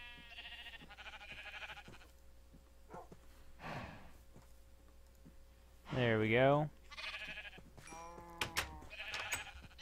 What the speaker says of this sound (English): Now for the sheep. Hey, sheep.